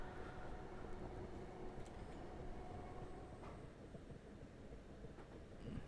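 A simulated train running through South London toward West Norwood, a quiet steady rumble of wheels on rails with faint clicks, distant and continuous.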